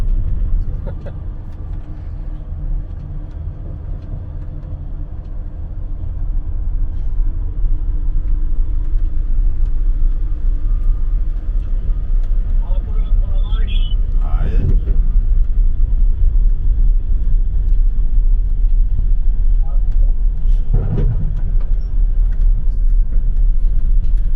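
Bus fitted with a Tesla electric motor, heard from inside on the passenger side as it drives and reverses into a parking lot: a steady low rumble throughout, with brief mechanical squeaks and whines partway through.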